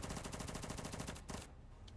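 Quad tail turret machine gun in the From The Depths game firing a rapid, evenly spaced burst of loud shots for about a second and a half, then cutting off abruptly into quiet.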